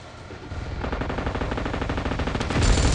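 Rapid automatic gunfire from PUBG Mobile, a dense, loud run of repeated bursts that thickens and grows heavier near the end, with no talking.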